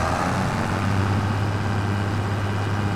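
A tractor engine idles in Farming Simulator 25, a steady, loud low rumble with a constant hum that holds without change throughout, no talking.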